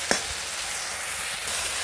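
A fish dish sizzles steadily in a frying pan as it is stirred, a loud, continuous hiss with a brief clack of a utensil at the start.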